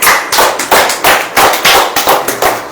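A church congregation claps hands together in a fast, regular rhythm, with sharp, loud, close claps repeating steadily and no talking over them.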